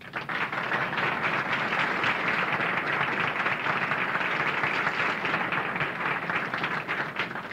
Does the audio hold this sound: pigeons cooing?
no